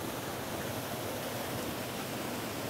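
Waterfall at Chew Stoke in the Chew Valley, heard as a steady, dense rush of falling water that stays constant and fairly close throughout, with no voices.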